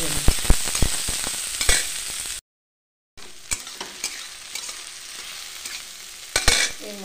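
Chopped green chillies and tomato fry in a pan with a steady, close sizzle and several sharp spatula scrapes and stirs, broken by a brief silent gap before the frying resumes.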